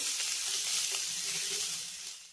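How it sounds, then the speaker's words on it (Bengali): Chopped ginger and garlic frying in hot oil with cumin seeds, a steady close sizzle with faint stirring scrapes, slightly fading toward the end. "এবার আদা রসুনটাকে এই জিরের সঙ্গে একটু হালকা করে ভেজে নেব।"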